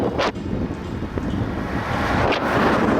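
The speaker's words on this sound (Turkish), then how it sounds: "Şu anda rüzgar var ama biraz." Strong wind buffets the microphone during a bicycle ride in a continuous roaring rush, with gusty surges throughout and no voices.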